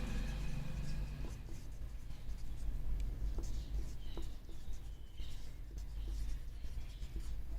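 A chemical structure being written out by hand, faint scratchy pen strokes with light taps over a low steady hum, no talking.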